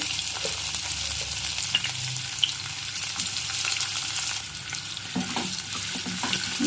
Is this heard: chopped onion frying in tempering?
yes